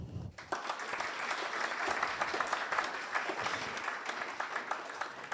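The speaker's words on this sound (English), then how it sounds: "We have to recognize that they too deserve our applause." A crowd applauds at an Impact Lab ribbon-cutting ceremony. Dense, steady clapping starts abruptly after a brief moment and continues loudly for several seconds with no talk over it.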